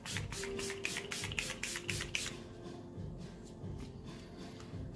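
Setting spray misted onto a face during a men's complexion makeup routine: a run of about eight quick, close pump bursts of fine hissing spray in the first two seconds, then a quieter room tone with faint rustling.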